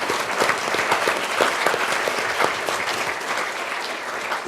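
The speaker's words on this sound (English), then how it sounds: "He needs a round of applause for what he's doing in that" A crowd at a public forum on the opioid crisis breaks into loud, continuous applause for a jail clinic doctor, many hands clapping densely and evenly from start to finish.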